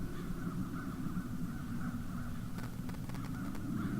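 Crows caw in the video game The Dark Eye: Chains of Satinav, a few harsh calls in the distance over a steady low ambient drone.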